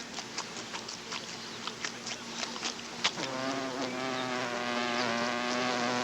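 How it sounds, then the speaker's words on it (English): Bees swarming around their queen in a backyard setting, heard as a soft insect buzz that thickens into a steady, droning hum about halfway through and holds to the end, with faint patter early on. "From a distance, we can watch bees swarm around their queen"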